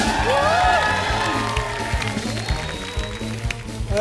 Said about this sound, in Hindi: अरोड़ा जी, अरोड़ा जी, आजा आजा, जोरदार तालियां